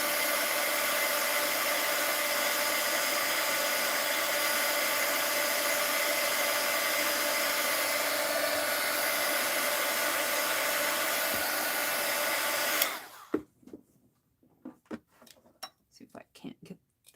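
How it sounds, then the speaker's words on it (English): Embossing-style heat tool blowing steadily on sealing wax, a loud continuous airy roar for about thirteen seconds that cuts off abruptly, followed by a few small clicks and handling knocks. "let's kind of hit this with some heat"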